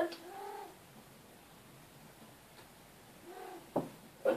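A female cat in heat gives drawn-out, moaning meows indoors, two quiet wailing calls separated by a long pause, followed by a couple of short sharp knocks near the end.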